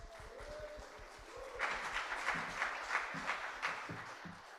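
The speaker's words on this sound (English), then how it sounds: "So can we give him a big cheer this end?" An audience at an international song contest event cheers and applauds, a steady wash of clapping and crowd noise that swells after the first second and holds at moderate distance.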